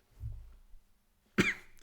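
A single sharp cough bursts out close by, preceded by a faint low rumble of breath and followed by quiet.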